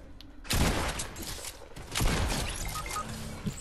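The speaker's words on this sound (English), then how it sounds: "Oh, you're getting shot." Bursts of gunfire in the Fortnite video game, a loud rattling volley followed by a second burst, with scattered shots and a brief impact near the end.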